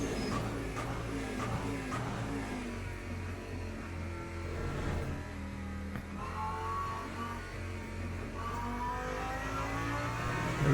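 A race car engine in Le Mans Ultimate at Interlagos in the wet, droning steadily through the whole stretch with its pitch climbing under throttle toward the end.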